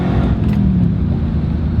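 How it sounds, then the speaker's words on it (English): A Nissan Titan pickup truck's V8 engine runs in a steady, close, low rumbling drone with a smooth, even loudness and no talking throughout. "Well, it does have a V8 engine. It's got a reasonable amount of pickup, pretty smooth shifting transmission too."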